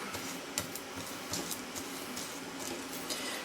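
Soft, steady bubbling of soup simmering in a pot, faint and continuous, with tiny irregular pops and ticks.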